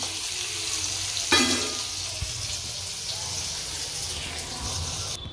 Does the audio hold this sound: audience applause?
no